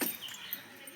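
A dog whimpers in a single short, thin whine, close by and alone.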